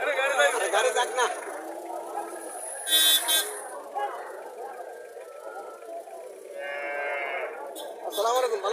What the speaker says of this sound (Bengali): এখানে একটা হাড্ডিসার গাভি দেখা যাচ্ছে